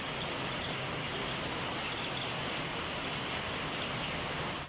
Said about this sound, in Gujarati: વિસનગરમાં 4 કલાકમાં 2 ઇંચ વરસાદ વરસ્યો છે